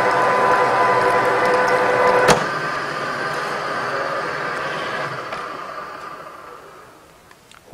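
A RIDGID 1224 threading machine threads pipe, a steady loud mechanical whir and grind with one sharp click partway through, then gradually winding down toward the end.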